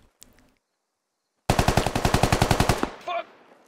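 Automatic gunfire in the military shooter game Squad, a sharp rapid burst of about fifteen evenly spaced shots that is loud and close, starting after near silence and followed by a brief mechanical clatter.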